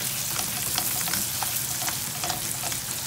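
Chopped tomatoes sautéing in hot, slightly orange cooking oil for a Filipino vegetable stir-fry, giving a steady, close sizzle with small crackles and pops throughout.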